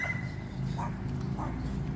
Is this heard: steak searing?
no